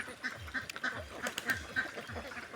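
Ducks raised in a confined shed quack in a rapid, repeated chorus, steady overlapping calls heard faintly at a distance without talk.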